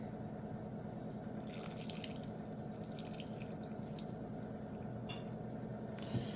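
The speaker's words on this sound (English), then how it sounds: "Add in 80 grams of water." Water pours steadily into a bowl of pie crust dough for a cranberry spruce tart, a soft continuous trickling stream with no one speaking.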